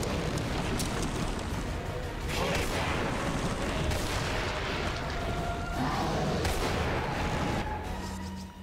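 Heavy, booming hand cannon shots in Resident Evil 4 during a boss battle against Salazar, several loud blasts and rumbling impacts layered over continuous dense game noise, with no voices.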